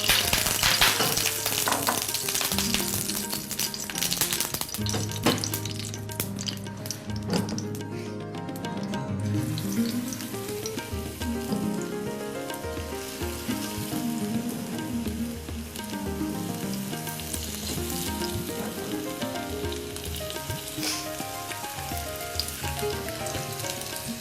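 Marinated lamb chops fry in hot oil in a home kitchen, giving a steady, loud, continuous sizzle with crackling spits throughout, broken briefly by a few sharper pops near the start.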